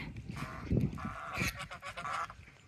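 Domestic geese at a village home honk loudly and nasally in several overlapping calls, close by, with a few softer cackles in between.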